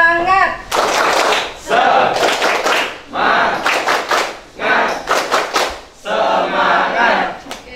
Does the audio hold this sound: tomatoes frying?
no